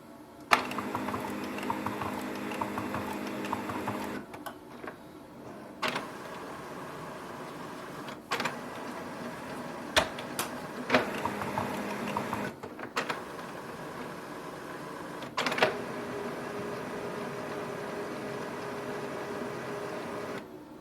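A Brother HL-L3220CDW color laser printer powers up after a toner change, with whirring motor runs, clicks and mechanical clunks stopping and restarting over about twenty seconds, moderately quiet and close.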